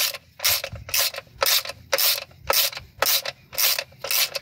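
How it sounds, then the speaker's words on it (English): A half-inch drive ratchet turning a 5/8 inch deep socket on a golf cart gives nine even bursts of rapid clicking, close and clear, repeating about every half second with short pauses between strokes. "So I'm just using a half inch drive with a 5/8 inch socket, deep socket."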